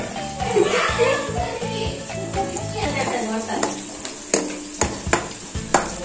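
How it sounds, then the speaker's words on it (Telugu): Spices dropped into hot oil for a tamarind rasam tempering burst into a loud, crackling sizzle, with a spoon scraping and clinking against the pan in sharp, repeated knocks toward the end. "ఇప్పుడు మసాలా వేసుకోవాలి."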